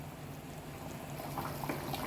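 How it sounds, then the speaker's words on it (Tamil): A pot of potato and soybean curry with coconut bubbles at a steady boil, a close, continuous simmering gurgle with soft pops and no voices. "ஒரு 3 நிமிஷம் நல்லா கொதிக்கட்டும்"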